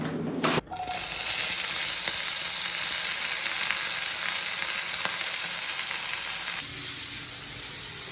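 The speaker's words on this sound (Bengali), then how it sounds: "ভেন্ডি আলু ভাজা" Okra and potatoes fry in a pan with a steady, loud sizzle and hiss. There is a brief clatter near the start, and the sizzling softens slightly near the end.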